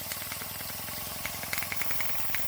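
A Rocking Whale RW-BL1K live steam engine kit runs on its first steaming, its copper boiler hissing steadily while the engine gives off a fast, even chuffing and light ticking, with a brass pulley turning.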